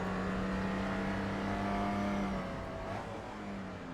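A BMW race car engine in a racing video game holds a loud, steady, sustained roar with a droning tone that dips slightly near the end, heard alone without speech.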